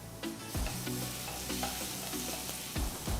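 Chopped garlic sizzling in a tablespoon of oil in a pan, a steady bright frying hiss with several sharp stirring scrapes and clinks over it.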